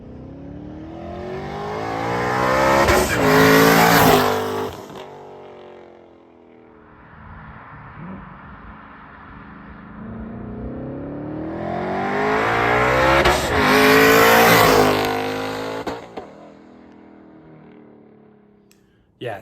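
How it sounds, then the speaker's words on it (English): Twin-turbo Mustang with a drag pack launching hard in second gear, two loud surging runs with the engine roar rising in pitch and fading, a quieter lull between them, heard close. "we're gonna do a couple hits in second gear to see how it hooks up in second gear"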